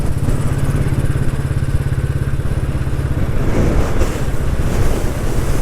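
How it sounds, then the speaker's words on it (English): Strong wind buffets the microphone in a loud, continuous roar, with a steady low engine-like rumble underneath. "it's windy up here"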